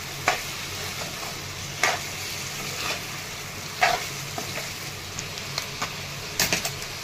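Potatoes and peas stir-fried in a pan with a soft, continuous sizzle, broken by sharp scraping clicks of a spatula against the pan every second or two, close and fairly quiet with no talking.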